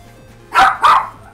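A puppy gives two quick, close, sharp barks in a row, loud and alone against a quiet background.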